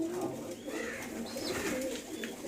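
Pigeons coo softly at a keeper's pigeon loft in Kudana, Shamli district, low murmuring calls rising and falling over faint background noise, with no talk.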